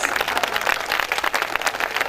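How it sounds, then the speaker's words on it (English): Applause from an audience at a Montessori pre-school event in Kolkata, a steady wash of many hands clapping at moderate loudness for about two seconds with no talk over it. "Can we have louder applause, please?"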